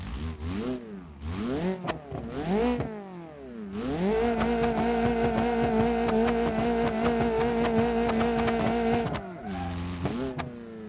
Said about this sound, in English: Alright, it can kind of do a burnout.